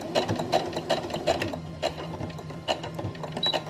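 A sewing machine stitches elastic channeling on a bra, a close, rapid mechanical chatter with a regular ticking pulse and a brief pause, running steadily without voices.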